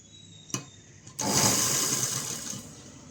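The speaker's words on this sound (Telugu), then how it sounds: "ఇలాగే కుడుతున్నాను" A sewing machine stitches the armhole of a one-year-old baby's frock, starting after two brief clicks with a close, steady whirring run of about two seconds that eases off toward the end.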